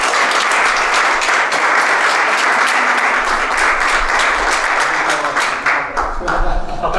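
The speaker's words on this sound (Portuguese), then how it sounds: "Um forte aplauso para o Ruben e um bom trabalho." An audience applauds steadily and loudly throughout at the grand opening of a new megastore, a dense continuous clapping with a few voices mixed in.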